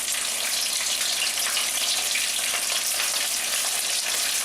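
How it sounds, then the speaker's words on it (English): Crab meatballs fry in oil heated to 350 degrees, giving a dense, steady, close sizzle that crackles without break throughout, with no voices. "now, carefully we are going to put our crab meatballs into our oil to fry"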